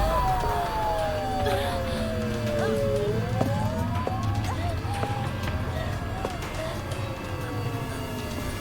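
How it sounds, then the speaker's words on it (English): Police sirens in the video game Silent Hill f, rising and falling wail tones sustained throughout over a low rumbling game ambience, with sounds of movement mixed in. "sounds like police sirens"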